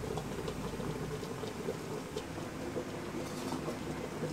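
Coconut milk cooking down into latik in a pan, a steady bubbling sizzle that carries on without letup, close and fairly loud with no one talking.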